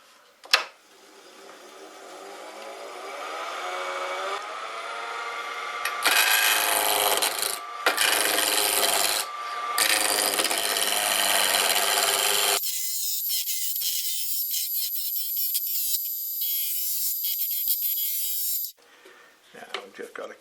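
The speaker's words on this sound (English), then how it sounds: "make this into a cylinder first of all, and I'll just use my roughing gouge, spindle roughing gouge" A spindle roughing gouge rounds a wooden egg blank on a lathe, giving a steady scraping, rasping cut that swells into loud bursts, with brief pauses between passes and a sharp knock near the start.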